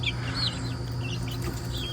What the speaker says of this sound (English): It's a sapphire gem rooster I got down there.